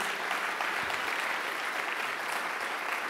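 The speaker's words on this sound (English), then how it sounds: "Please applaud for the Network Team." At a tech conference opening, the audience gives a sponsor a steady, dense burst of applause, close and even throughout with no voices over it.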